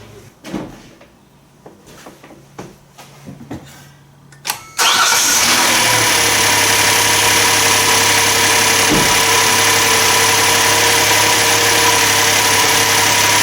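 A few clicks and knocks, then a Hyundai/Kia 3.3L V6 engine cranks and catches after a spark plug tune-up, settling into a steady, loud idle that runs on evenly.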